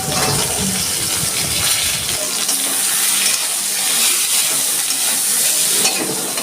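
Jackfruit seeds dropped into potatoes frying with turmeric in a pan, a loud close sizzle with stirring scrapes and clattering at first, then a steady crackling fry.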